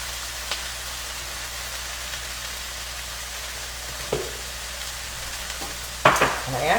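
Shrimp and cabbage stir fry cooking down in a pan, a steady soft sizzle running throughout with a couple of brief clatters of utensil or pan near the end.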